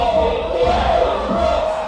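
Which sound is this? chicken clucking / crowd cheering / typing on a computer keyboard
crowd cheering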